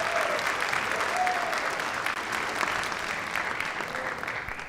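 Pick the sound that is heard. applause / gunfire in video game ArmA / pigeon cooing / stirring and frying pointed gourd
applause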